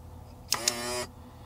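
A Drain Master electric waste tank valve runs in a short half-second burst of motor whir, opening with two sharp clicks, close by and alone against a quiet background hum.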